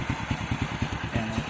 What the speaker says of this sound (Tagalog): Paparinig ko muna sa inyo yung makina, paandarin natin.